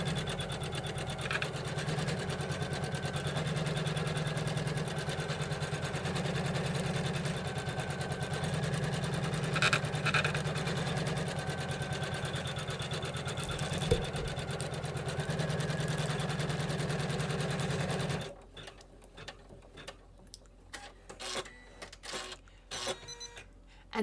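Embroidery machine stitching a quilting design on fabric for a stained glass wallhanging, a steady fast mechanical whir for most of the stretch, then stopping into a few scattered clicks and taps, no talk.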